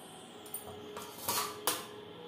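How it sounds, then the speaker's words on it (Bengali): A lid set onto a bowl of marinated chicken in a home kitchen gives a few faint clinks and a brief metallic clatter, quiet and close, with no talking. "ঢাকনা চাপা দিয়ে"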